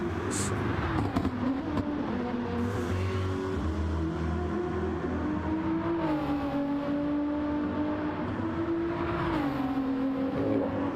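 Race car engine in the iRacing sim at Bathurst during 12-hour qualifying, a steady loud drone holding one pitch with small shifts, easing briefly around the middle and rising again near the end, alone with no talk.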